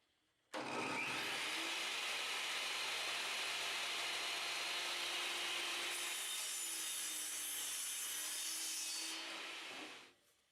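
A power saw cuts steadily through a poplar spline on a wooden game case, one loud continuous rasping whine lasting about ten seconds before spinning down.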